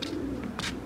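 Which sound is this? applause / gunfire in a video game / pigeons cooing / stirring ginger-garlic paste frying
pigeons cooing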